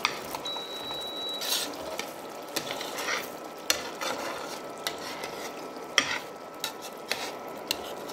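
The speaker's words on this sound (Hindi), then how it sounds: "ये मलाई अपना घी छोड़ने लग गई है, घी की कंसिस्टेंसी आ गई है" Milk cream (malai) simmers in a pan, rendering into desi ghee with a soft, constant sizzle. A spoon stirs and scrapes the pan at intervals, giving sharp metallic clinks and knocks up close.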